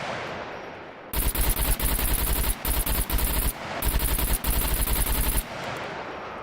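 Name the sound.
gunfire in the video game Scum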